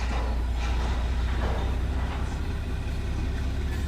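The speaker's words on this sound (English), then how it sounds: "This has got to be one long ass train that's got engines in the middle." A long freight train with engines placed mid-consist rolls past a rail crossing in Waycross, giving a steady, continuous low rumble with faint clanking of cars, heard from a short distance with no talking.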